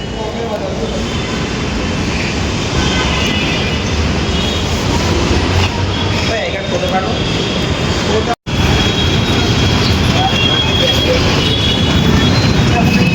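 A metro train at a station, a loud continuous rumbling roar that persists steadily with a brief cut partway through, close and dominant.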